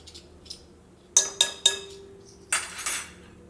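A spoon mixes Eno fruit salt into instant idli batter in a bowl, with a few soft stirs followed by sharp metallic clinks against the bowl's rim, heard close and alone.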